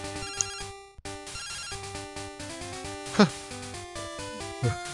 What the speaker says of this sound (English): we're going to get the phone call from Professor Sigalmerch